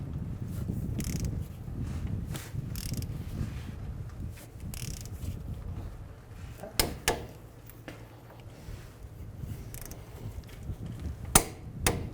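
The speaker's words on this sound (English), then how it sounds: "our 4 bolts holding our bearing in place. We're going to torque those down now to 72 foot-pounds" Wrench work torquing the four wheel bearing bolts on a 2011-2017 Honda Odyssey front hub: low mechanical rumble with scattered metallic clicks and a couple of sharp ratcheting knocks, fairly quiet.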